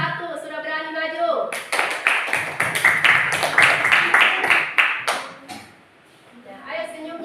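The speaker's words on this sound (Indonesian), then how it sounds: "beri aplaus kelompok 1 sudah berani maju" Children clap for group 1 in a classroom, with a burst of quick, dense handclaps lasting several seconds and then fading away. An adult voice talks before and after the clapping.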